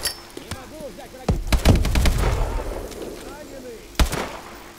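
Explosion and gunfire in the Call of Duty Advanced Warfare video game: a heavy blast bursts out loud with a low rumbling tail, followed by sharp crackling shots and a second later impact, with game chatter under it.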